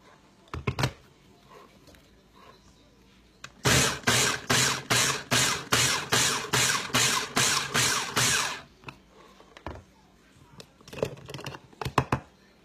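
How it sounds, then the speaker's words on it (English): A food processor pulses in about a dozen short, evenly spaced bursts to chop ingredients for a Cinco de Mayo meal, loud and close, with brief clatter before and after. "I'm going to pulse it several times until it's chopped up nicely."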